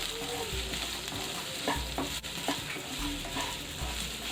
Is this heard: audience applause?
no